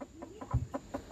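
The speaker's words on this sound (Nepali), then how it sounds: "यहाँ कुखुरा पालेको छ" Chickens kept in a small coop give short, repeated clucks in an uneven rhythm, fairly close and moderately quiet, with no talking.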